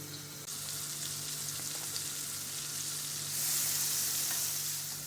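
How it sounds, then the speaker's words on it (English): Butter sizzling steadily as it melts in a hot pan for honey cinnamon toast, a continuous close hiss that grows louder partway through, with a low hum underneath and no talking. "I heat a pan and melt some butter."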